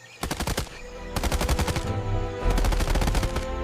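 Rapid, hard wooden clattering in three bursts, like fast machine-gun rattling, loud and close with a low rumble underneath.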